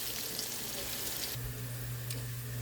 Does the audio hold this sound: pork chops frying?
yes